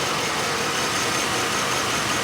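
A car engine idling with a misfire, a steady, dense, close rumble with continuous vibration and no voices over it.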